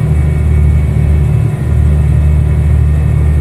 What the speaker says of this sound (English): If the truck is too loud, I can turn it down.